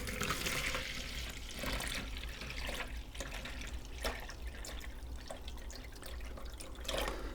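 Water mixed with Tomorite fertilizer being poured to top up a container, a steady splashing trickle that continues for several seconds, with no talking.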